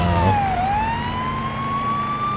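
Police car siren from the video game Police Simulator: Patrol Officers, a loud continuous electronic wail that dips and then rises steadily into a sustained high tone, heard alone with no talk.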